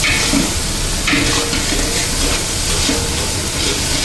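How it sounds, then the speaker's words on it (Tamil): Ginger garlic paste fries in hot oil with onions in a pan for veg pulao, giving a dense, continuous loud sizzle with brief stirring scrapes and no talking. "அந்த இஞ்சி எல்லாமே நல்லா ஃப்ரை ஆகணும்."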